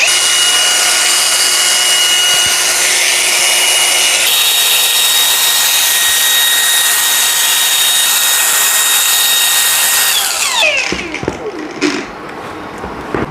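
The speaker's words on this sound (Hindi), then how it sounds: "अब ये हमारा ग्राइंडर चलने के लिए बिल्कुल रेडी है" Ingco cordless battery-powered angle grinder spinning at a steady high-pitched whine close by, with a slight pitch step partway through before it winds down and coasts to a stop near the end.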